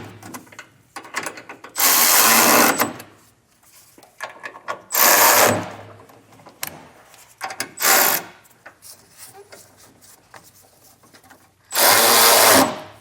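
A power driver with a 7/32 hex bit tightens the fasteners of Firestone Ride-Rite rear air helper springs on a 2025 Chevrolet, four loud, close, sustained whirring bursts with pauses and handling noise between them.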